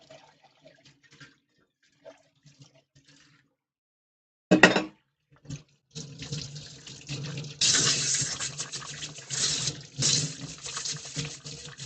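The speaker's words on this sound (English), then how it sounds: "Oh, I've got to wash the milk jug out." Tap water runs into a milk jug being washed out, starting with a few faint drips, then a brief splash and a steady close gushing stream that rises and sloshes as the jug fills.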